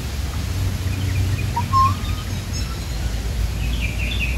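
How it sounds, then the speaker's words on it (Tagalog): A wahaw bird calling in the mountains, a few faint, thin chirps and short whistled notes, some distant, over a steady low outdoor rumble. "Diba yan yung kawahaw kaibigan?"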